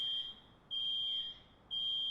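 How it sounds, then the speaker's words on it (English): An electronic alarm siren in the game Rust sounds a shrill, steady high-pitched tone in long pulses, on, off, then on again, with nothing else audible. "So that's the siren"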